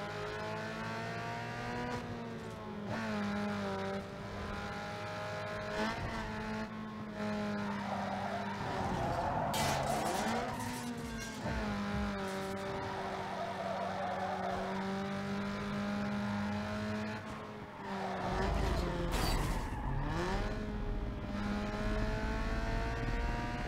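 SUV in the racing game Need for Speed Underground 2 holds a steady engine drone while tires squeal and skid in bursts through corners, the roar swelling as it accelerates.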